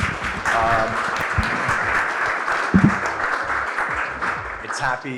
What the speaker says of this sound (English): So big round of applause for the panelists again.